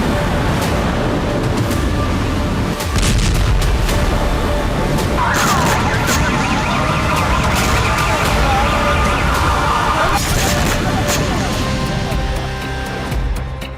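A loud, steady air raid alert siren sounds in Israel during an Iranian missile attack, a continuous wailing tone over dense background noise filling the whole stretch, with faint voices mixed in.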